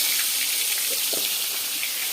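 Hilsa fish fries in hot oil in a kadai, giving a steady, dense sizzle with scattered small pops and crackles, close and continuous throughout.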